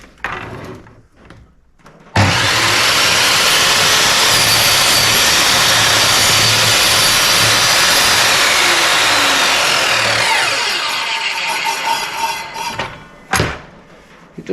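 A JCB 254mm sliding compound mitre saw spins up with a sudden, loud, high whine that holds steady for several seconds, then winds down quickly, followed by a brief sharp burst.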